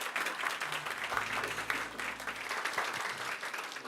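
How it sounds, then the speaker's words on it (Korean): Warm audience applause at a Korean peace forum's eve ceremony welcoming a lawmaker to the stage, with dense, steady clapping throughout and a low hum partway through. "따뜻한 박수로 맞아주시면 감사하겠습니다"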